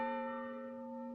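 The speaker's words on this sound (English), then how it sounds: "Oh, stop ringing those bells." A single bell's sustained tone rings out steadily, slowly decaying with clear, pure harmonic overtones, heard alone in a classic Western mining-town scene.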